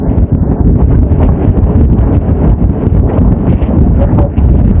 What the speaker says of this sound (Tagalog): So napakalakas ng hangin.